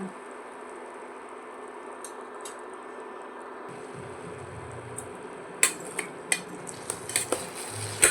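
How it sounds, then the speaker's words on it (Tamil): A spoon stirs dried fish thokku in a pan, with a low sizzle and several sharp scrapes and knocks of metal on metal in the second half, close and with no talk. "இப்போ நல்லா கிண்டணுங்க. நல்லா கிண்டிக்கங்க."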